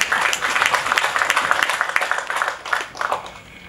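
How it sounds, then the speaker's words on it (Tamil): An audience at a directors' association award ceremony claps steadily, many hands close together in a dense patter that fades toward the end. "இந்த கைத்தட்டல், இப்போ நீங்கள் கொடுத்துருக்கீங்க இல்லையா"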